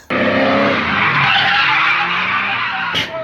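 A Nissan 240SX with a VH45 engine skids at the track during a crash, with loud, sustained tire screeching and engine roar lasting throughout and a sharp impact-like burst near the end.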